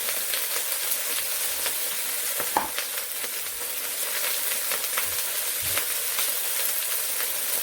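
Hot oil frying steadily in a pot on the fire as the base for a tomato fish soup, a dense continuous sizzle with a few brief crackles and pops, no talking.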